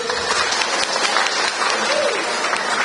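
Audience applause for a speaker at a farmers' dialogue in Wonosobo, a dense steady wash of clapping from a crowd lasting throughout, with a voice briefly heard over it.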